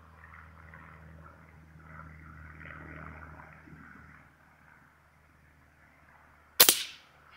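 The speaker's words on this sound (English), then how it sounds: "So, we're now at 50 meters, shooting at Bob." A single sharp gunshot fired at cheap body armor from 50 meters, loud and abrupt near the end after several seconds of low outdoor hum and quiet.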